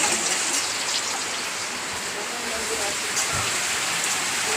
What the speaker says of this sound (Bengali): কিভাবে বৃষ্টি হচ্ছে দেখুন, প্রচণ্ড হারে বৃষ্টি হচ্ছে।